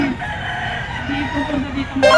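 Chickens cluck and a rooster crows, close by at a market in Grotto, Bulacan, with a brief louder call at the end over steady farmyard background noise.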